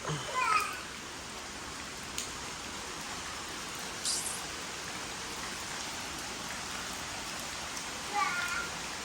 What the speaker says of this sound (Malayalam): അത്യാവശ്യം നല്ല രീതിയിൽ പെയ്യുന്നുണ്ട്.